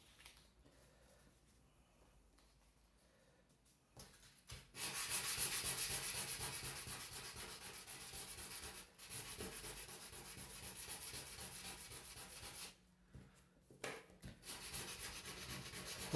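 A wooden craft piece is sanded by hand in a steady rubbing rasp of sandpaper on wood, fairly faint and close, in long strokes with short pauses between passes.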